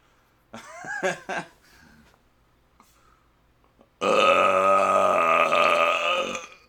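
A few brief sounds come first, then a long, loud, deep belch rumbles close to the microphone for over two seconds.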